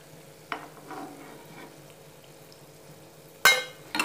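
Chili bhaji fritters fry in hot oil with a quiet, continuous sizzle. A couple of soft stirring scrapes break it, and a sharp splashy clatter comes near the end.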